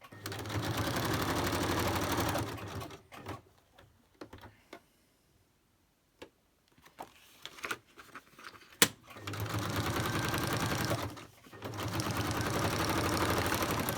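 A sewing machine runs in steady bursts of stitching, stopping for a quiet pause with small clicks in between, then starting up again loudly.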